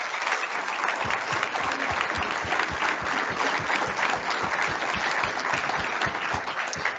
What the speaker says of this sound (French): je vous propose qu'on les applaudisse tout particulièrement